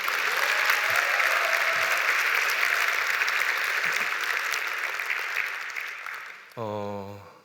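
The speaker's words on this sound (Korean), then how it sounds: "박수 한번 부탁드리겠습니다" A roomful of people at a lecture talk applaud in dense, steady clapping that slowly fades, then a voice starts speaking in Korean near the end.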